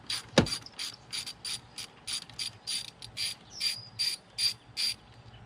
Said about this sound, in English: Get the hose clamps loose.